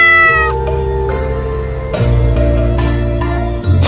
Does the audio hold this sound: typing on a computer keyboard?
no